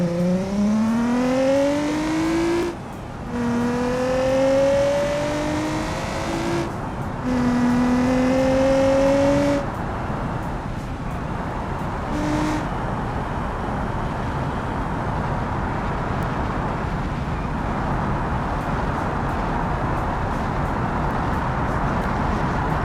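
A Kawa Motors Luna car in BeamNG.drive speeds downhill, its engine climbing in pitch through several gear changes, then giving way to a sustained roar of wind and tyre noise as it races on; loud and continuous.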